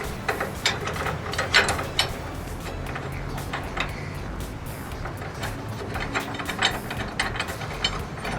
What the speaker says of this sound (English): Let's see if I can get the bolt in there.